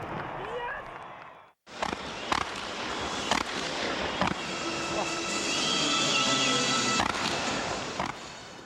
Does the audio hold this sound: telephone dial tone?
no